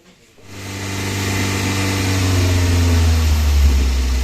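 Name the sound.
Daihatsu Gran Max engine idling after reassembly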